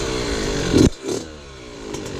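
A Yamaha YZ65 dirt bike on its stock exhaust buzzes close by and climbs in a short rev, then drops abruptly back to a rough idle.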